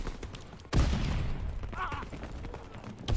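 Rapid-fire gun shooting in a World War II video game, a loud sudden blast followed by a continuous dense barrage of shots, with faint voices underneath.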